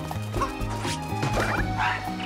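Dog barking in the video game Super Mario Odyssey, a few short yips over continuous game music, close and moderately loud.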